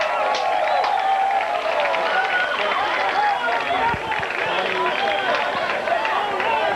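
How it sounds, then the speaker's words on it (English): A loud, sustained roar of a vocal crowd at a baseball game, dense cheering and babble filling the stands continuously with no pauses. "The most vocal crowd I've heard here at one of these games in a long time"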